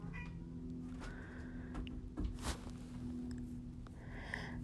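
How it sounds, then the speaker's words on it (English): A pet cat meows a few times, faint and somewhat distant, over a steady low hum in a home painting room. "There's my cat again."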